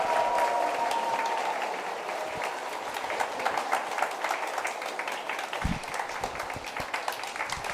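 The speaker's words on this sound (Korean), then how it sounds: "박수 한번 부탁드립니다." Audience members at an evening book concert give a sustained round of applause, many hands clapping in a fairly quiet, distant-sounding hall that continues evenly and grows slightly choppier.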